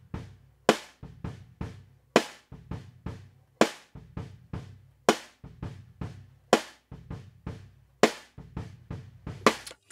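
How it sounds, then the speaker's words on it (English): A hi-hat close-miked with a Neumann KM184 in a home studio drum recording, tuned ringy rather than bright, plays a steady repeating groove of crisp strikes with kit bleed underneath, close and with no talking. "So then we have the hi-hat, pretty much straight with a Neumann KM184"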